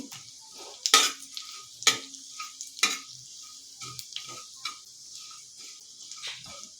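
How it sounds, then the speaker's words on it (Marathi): Mustard seeds and cumin, a small spoonful of each, popping in hot oil: sharp, scattered crackles and spits, close and fairly loud, with quieter sizzle in between. "मोहरी एक छोटा चमचा जिरं आता हे दोन्ही चांगलं फुलून द्यायचं आहे"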